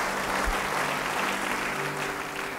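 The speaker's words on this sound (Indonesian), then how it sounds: "Siapa percaya, beri tepuk tangan bagi dia." A church congregation claps and cheers in a dense, continuous wash of applause that fills the room, with no speech over it.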